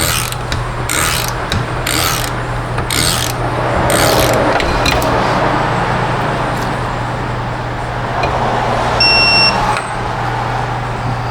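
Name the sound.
torque wrench tightening Nissan Altima wheel bearing hub nut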